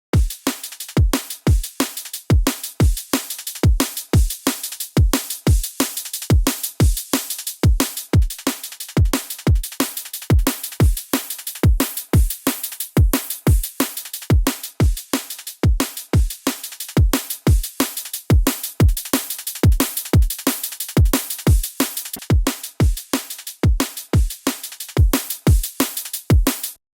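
Drum track run through the Fresh Air high-frequency effect plugin, giving bright, airy top end: steady, evenly spaced loud hits repeat for the whole stretch with no voices.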